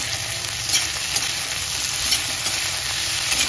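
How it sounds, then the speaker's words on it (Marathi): Tomato and green chillies sauté in a hot pan for a spicy paneer mushroom masala, giving a steady, close, dense sizzle with faint scraping of stirring throughout and no talk. "आणि जरा परतून घ्यायचं चांगलं मस्त"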